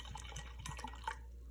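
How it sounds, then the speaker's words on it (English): White vinegar trickles from a bottle into a cup holding an egg, a faint, brief liquid pour with light splashy drips, heard alone in a quiet room. "I'm gonna pour some in there"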